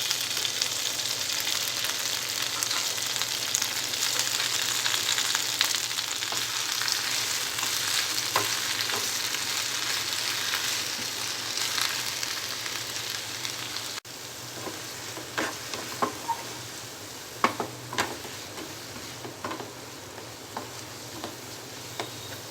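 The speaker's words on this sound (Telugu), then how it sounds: "ఎండుమిర్చి ఫ్రై చేసిన ఇదే ఆయిల్లో గోంగూర వేసుకోవాలి." Gongura leaves frying in the oil left from frying dried red chillies, a steady close sizzle that settles into quieter crackling pops and stirring taps.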